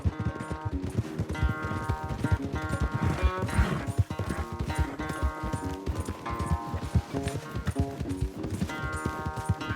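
Horses galloping in a race in the Red Dead Redemption 2 video game, with steady clip-clop hoofbeats driving along under a full music score, loud and continuous throughout.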